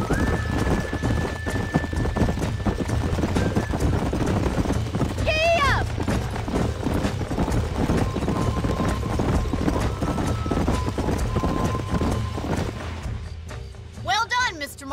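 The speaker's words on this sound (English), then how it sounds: "These are fine horses." Rhythmic hoofbeats of horses clip-clopping along in the video game Red Dead Redemption, with a couple of whinnies and people talking over the steady trotting.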